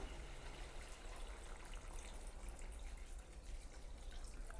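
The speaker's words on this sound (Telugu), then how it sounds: "ఈ ముక్కలు మునిగేదాకా అయితే వాటర్ అయితే పోస్తున్నాను" Water is poured into mutton curry simmering in a clay pot, a steady, close gushing splash that runs unbroken for the whole stretch with no talking.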